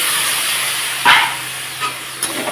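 Water added to a spice paste of garlic and chili frying in a pan, a steady hiss of steam with a sharper burst of sizzling and a few smaller spits.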